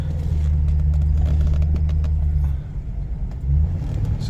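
A 2008 Ford Crown Victoria Police Interceptor engine rumbles steadily from up close through a U-turn, with a deep continuous drone that dips briefly partway through and then swells back.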